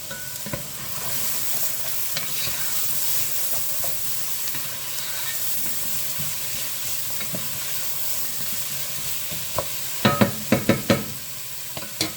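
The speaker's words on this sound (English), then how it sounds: "We're sauteing these vegetables first" Vegetables sautéing in a pot for a homemade chicken pot pie, a steady soft sizzle with occasional stirring, ending in a quick cluster of sharp spoon scrapes and clinks near the end.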